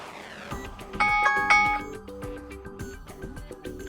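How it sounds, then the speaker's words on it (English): Alarm preview on a Teclast T60 tablet: a clear two-note electronic chime that rings twice near the start, followed by a quieter repeating melodic pattern that keeps going to the end. "and here you can adjust alarm volume."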